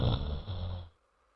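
Cartoon snoring from a mother-in-law, father-in-law and sister-in-law asleep in a courtyard: one loud, rough snore that holds for under a second and then stops dead into silence.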